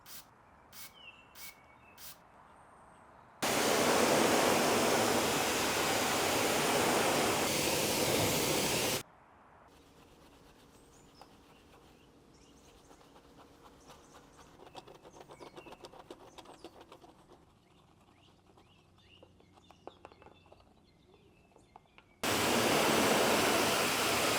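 Loud, steady hiss of a high-pressure water spray pre-washing a BMW M3 at a wash box comes in bursts, broken by quieter stretches of dripping and faint clicks.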